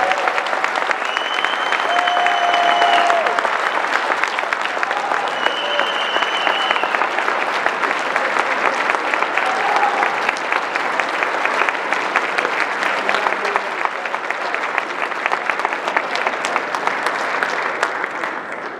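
Sustained applause from a debate audience for the guests of an 11th District debate, steady and dense from start to finish, with a few faint tonal sounds mixed in and no talking.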